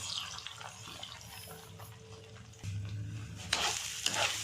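Semolina (rava) being roasted in a pan with chopped herbs, a quiet dry sizzle with scraping stirs of a spatula, growing a little louder partway through.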